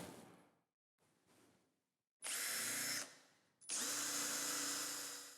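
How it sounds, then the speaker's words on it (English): A power drill whirs up loudly twice, each run lasting about a second, pre-drilling into heavy wood after a few quieter scraping and handling noises. "it's always good to countersink and pre-drill"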